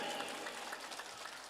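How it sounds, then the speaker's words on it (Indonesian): An audience at a religious lecture claps for a few seconds, a dense spread of applause heard at moderate distance. "Tepuk tangan untuk Raudhatut Talibin."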